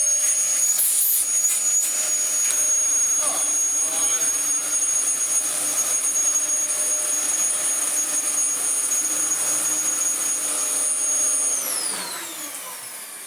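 A restored Dyson DC14 upright vacuum cleaner runs close by with a loud, steady high-pitched motor whine and airy rush, then spins down toward the end.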